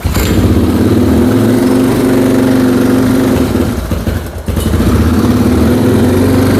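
A restored Moto 4 engine runs, slightly lean, with a loud, close, steady buzzing idle and a brief dip in revs partway through before it picks back up.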